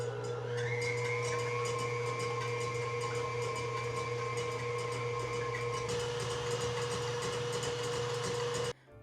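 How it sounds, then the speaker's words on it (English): A stand mixer with a whisk attachment beats egg whites at medium-high speed, a steady motor hum with a sustained whine that shifts pitch partway through before stopping abruptly. "In clean bowl of a stand mixer fitted with whisk attachment, beat egg whites at medium-high speed until foamy"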